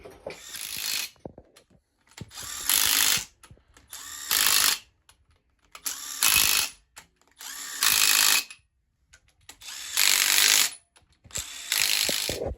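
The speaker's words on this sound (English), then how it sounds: "Now we're going to put all the nuts on and torque this down." Ratchet wrench torquing down nuts on a 427 engine, a series of rapid clicking bursts, each lasting about a second, separated by short quiet gaps, loud and close with no talk.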